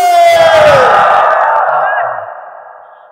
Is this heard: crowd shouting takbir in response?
yes